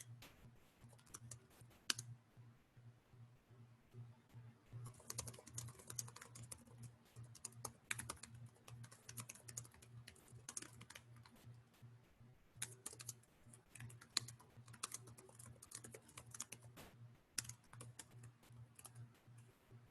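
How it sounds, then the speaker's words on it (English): Keys clatter on a computer keyboard in a steady, irregular run of clicks for about twenty seconds, fairly quiet and close, with a low hum underneath and no talking. "So I'm just going to type this out while you guys are looking."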